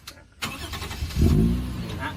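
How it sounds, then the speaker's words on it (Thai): Gasoline engine of a service tram vehicle running just after being started, a fairly quiet, steady low hum that swells slightly partway through, with no talk over it. "เสียงนี่ผมสตาร์ทเครื่องแล้วนะฮะมันจะเบาและเงียบนิดนึง"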